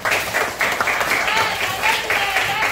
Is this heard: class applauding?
yes